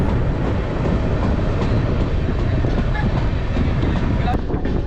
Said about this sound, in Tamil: இப்போது ட்ரெயின் உள்ளே எட்டுறவர் தான் பார்த்தீங்கன்னா ஜோலார்பேட்டை ஜங்ஷன்